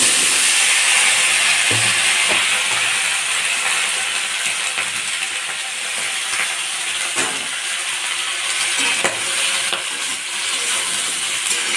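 Green chilies frying in a kadai after fish has been fried, giving a steady, dense sizzle and crackle with small pops throughout, close and fairly loud.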